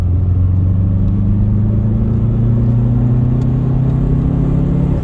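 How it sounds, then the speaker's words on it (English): A Subaru Forester XT's 2-litre engine pulls hard in third gear from about 30 toward 40 mph on a damp road, a loud, steady droning growl that rises slowly in pitch throughout, heard from inside the car with no talk. "angry sounding 2-litre engine there"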